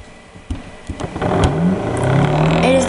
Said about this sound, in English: This motor can be built from the kit number 6.